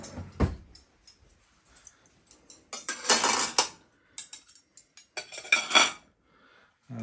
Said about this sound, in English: You need knife and fork, Max.